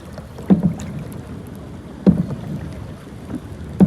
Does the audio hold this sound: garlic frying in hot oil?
no